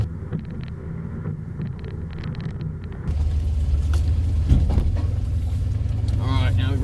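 Toyota Tacoma TRD engine revving harder as the truck climbs a rough off-road hill on the Daniel Boone Backcountry Byway, a steady low rumble that swells midway, with wind noise and a voice talking over it.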